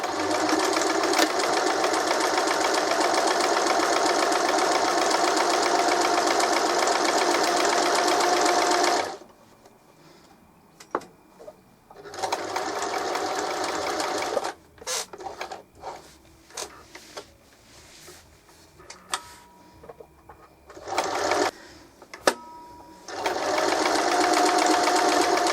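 A sewing machine stitches a buttonhole at about a 3 mm stitch width, running steadily in loud bursts that stop and restart, with quieter handling noises in the pauses between runs.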